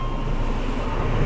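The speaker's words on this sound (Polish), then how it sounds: "Jedzie szynobus." A railbus rumbles past a level crossing, a continuous loud, close rolling roar with no speech.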